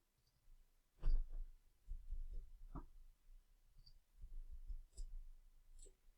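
A computer mouse clicking several times in a quiet room, sharp isolated clicks spaced irregularly, faint and close with low background rumble.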